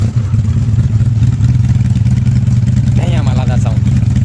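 A running vehicle engine idles steadily and loud for the whole stretch, with a brief rising rev near the end before it settles back; no one talks.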